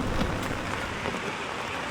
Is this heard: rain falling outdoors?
yes